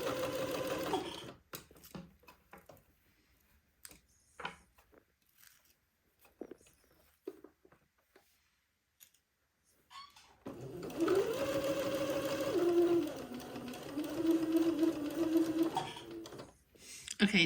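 A sewing machine stitches the brim onto a hat for a baby wedding outfit, starting with scattered clicks, handling noises and pauses, then settling into a steady, close whirring run of stitching.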